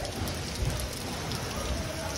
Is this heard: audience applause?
no